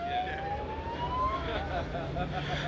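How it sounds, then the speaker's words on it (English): Faint distant siren wailing with a slowly rising tone across the grounds of a Ford car show at Silverstone, heard under steady crowd and outdoor background noise. "Somebody's got some sirens going."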